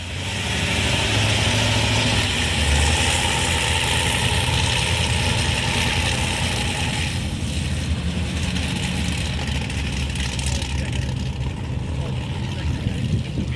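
A car engine idles at a car meet, a steady deep rumble with exhaust note holding throughout at close range, with faint people talking around it.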